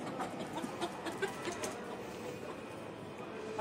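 Hens clucking inside a clay-and-brick coop, a steady mix of short close clucks and soft calls over a faint rustling background, with no clear talk.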